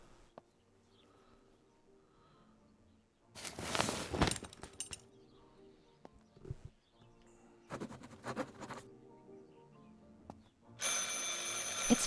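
An old telephone rings in the Martha Is Dead video game, with bursts of loud bell ringing separated by quieter stretches of soft ambient game sound, the last ring turning harsher and brighter.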